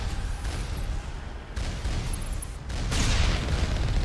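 Turrets firing in the Mass Effect video game, a dense continuous barrage of booming shots with no clear gaps, growing louder toward the end.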